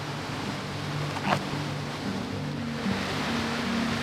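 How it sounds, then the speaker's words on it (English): Heavy rain falls at Juan Diego Falls in Puerto Rico. It makes a dense, steady hiss and wash with a low rumble, constant and fairly loud throughout with no voices. "The rain started dumping as soon as we parked."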